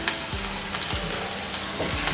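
Onions and ginger garlic paste fry in a pan for a raw banana fry, a dense close sizzle with repeated scraping stirs across the pan, steady throughout, no voices.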